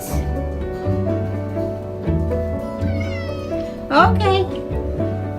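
A house cat meowing a few times over a steady low hum, with a louder rising meow near the end while a person talks to it softly throughout.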